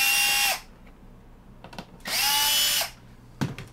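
A power driver fastens screws into a panel on a DIY DC power distribution unit: two close, loud whirring bursts, each spinning up and winding down, with light clicks between them.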